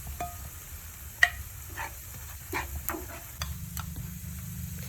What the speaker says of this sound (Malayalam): നന്നായിട്ടൊന്ന് ഇളക്കിയെടുക്കാം കറിവേപ്പില.